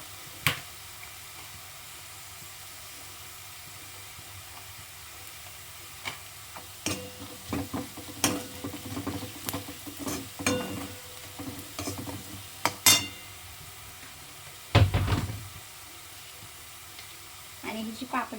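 Onions fry in a pan while a utensil stirs and scrapes them, producing a soft steady sizzle broken by scattered clicks and knocks, with one louder clatter near the end and no talk.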